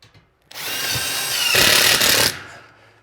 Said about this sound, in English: So you just run screws at angles in the corners.